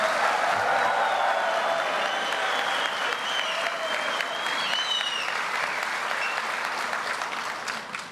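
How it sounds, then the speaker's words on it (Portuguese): Sustained applause from a large audience at the inauguration ceremony of Minister Alexandre Baldy, a dense continuous clapping that fills the room, with faint voices and a few whistles mixed in and slowly fading at the end. "Vocês viram como você ia arrancar aplausos, né?"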